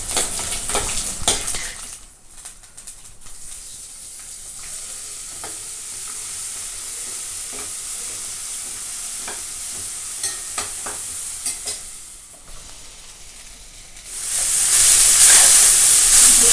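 Mustard seeds, then urad dal and peanuts, fry in hot oil with a steady sizzle and scattered crackles and pops, some stirring in the pan, and a louder hissing surge near the end.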